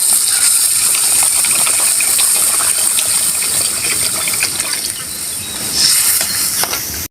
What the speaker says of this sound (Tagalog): Lalagay na po tayo ng tubig, pampalambot.